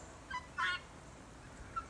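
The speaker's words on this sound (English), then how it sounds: "That two syllable sound is a sound that only the female guineas make," A female guinea fowl's two-syllable call, a short grating double note heard fairly near against a quiet background, with a few fainter chirps around it and no speech.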